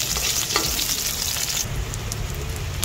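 White onion hitting hot oil alongside browned garlic for a pork bone soup, a loud, dense, continuous sizzle close up, with no voices.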